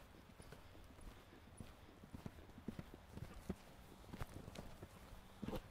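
A mare is ridden through a line of gymnastic jumps, her hooves beating out faint, uneven clip-clop steps on the ground, with occasional heavier thuds as she lands and moves on.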